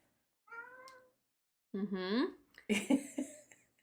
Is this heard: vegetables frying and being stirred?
no